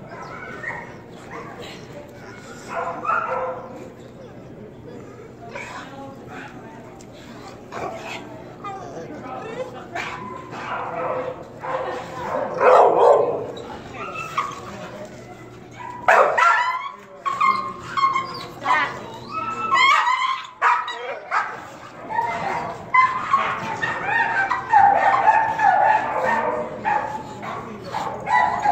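An American pit bull terrier at an outdoor gamebred show in Colorado barks and yips in scattered bursts, with people talking nearby throughout.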